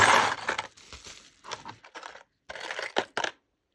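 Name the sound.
sterling silver jewellery tipped into a tray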